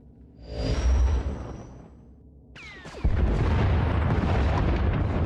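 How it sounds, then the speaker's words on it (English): A warship in Star Wars: The Old Republic opening fire with turbolasers and missiles: a rising whoosh and rumbling boom, then a sustained loud roar of blasts and heavy rumble that stays dense and close. "Enemy is firing. Turbo lasers, missiles, and what looks like transport pods."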